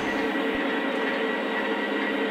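A Lionel O gauge model train lash-up of locomotives runs with a continuous dense mechanical rumble and hum, steady and fairly close, with no voices over it.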